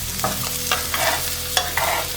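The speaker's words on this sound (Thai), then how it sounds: "มาผัดนะคะ" Vegetarian tofu and shiitake mushrooms stir-fried in a pan, with a steady low sizzle and a few sharp scrapes and clacks of the utensil at irregular intervals, close and clear with no talking.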